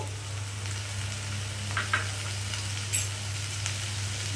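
Steady close sizzle of a green jackfruit and potato curry frying in a pan, with a few soft splashes and clicks as cut tomato pieces drop in; no talking.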